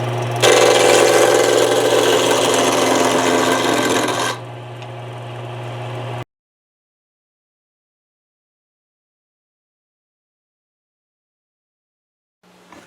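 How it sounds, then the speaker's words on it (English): Wood is turned and rounded on a lathe: a loud, continuous rasping scrape runs for about four seconds, drops to a quieter motor hum, then stops and falls silent. "we'll get this put in the lathe. Alright. Just going to try to get it rounded up."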